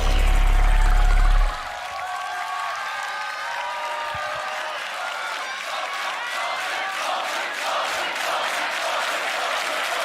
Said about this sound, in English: give it up for Rofu